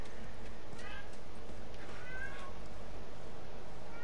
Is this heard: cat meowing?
yes